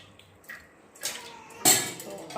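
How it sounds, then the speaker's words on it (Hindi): Water is poured from a half glass into a pot of apples in a home kitchen, a few short splashes and trickles building to one louder gush near the end, close and without talk. "इसमें हम डाल देंगे सारे एप्पल और हाफ गिलास इसमें पानी डालेंगे।"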